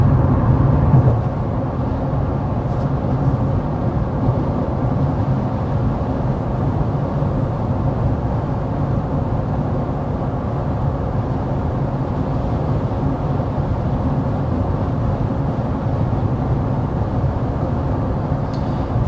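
Inside a 2025 Honda CR-V cruising at 55 mph with the fan on its lowest setting, a steady broadband road and wind roar fills the cabin, constant and fairly loud with no talking.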